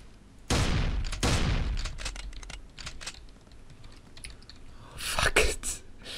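Bursts of rapid gunfire crackle through the blocky zombie shooter Blockstorm, close and loud, with a heavy volley near the start and another sharp cluster toward the end.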